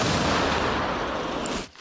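An artillery gun fires at a frontline position in the Toretsk battle area, one heavy booming blast whose rolling roar fills the air before cutting off sharply.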